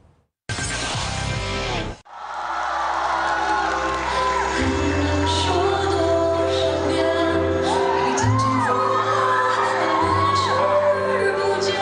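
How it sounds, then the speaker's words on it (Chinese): A crowd of fans screams and cheers wildly as a pop singer appears at a film premiere press event, loud, sustained high-pitched shrieks and whoops filling the space after a brief opening burst. "在无数歌迷疯狂的尖叫声当中"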